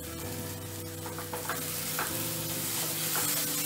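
Masala sautéing in oil in a pan for a stuffed black pomfret fry, a steady close sizzle with stirring scrapes and light clinks over an even background hum.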